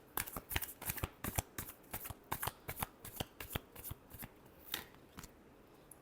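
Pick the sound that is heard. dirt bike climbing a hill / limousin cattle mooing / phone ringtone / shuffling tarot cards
shuffling tarot cards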